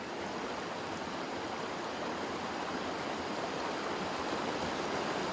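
Flowing water rushes close by, a steady broadband hiss and burble that stays even and continuous with no voices over it.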